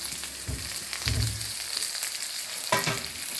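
Spices frying in a pan for a mackerel green masala, a steady close sizzle with a few louder stirring scrapes and bursts.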